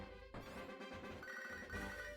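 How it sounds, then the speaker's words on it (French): A telephone rings in the Pokémon HeartGold video game, a bright electronic ringtone that repeats in short chiming bursts over game music, with no voices. "Le téléphone qui sonne."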